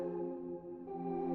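A sustained synth pad with a wavering, watery shimmer holds steady, its tone brightening slightly near the end, with no voices.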